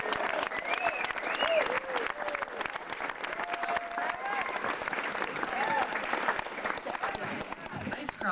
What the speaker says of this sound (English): Let's have a nice hand for Mr.